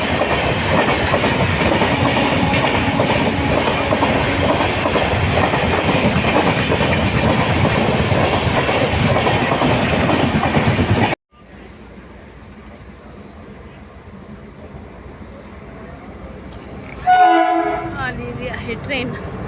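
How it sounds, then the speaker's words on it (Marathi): A train pulls into a station, its wheels roaring loudly on the rails before the noise drops away abruptly. A short horn blast sounds near the end. "इथे ट्रेन आलेली आहे"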